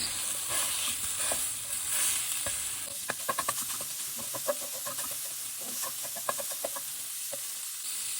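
Chorizo meat sizzles quietly in a pan while it is stirred, with a run of sharp clicking scrapes from the utensil after the first few seconds over a soft, steady hiss.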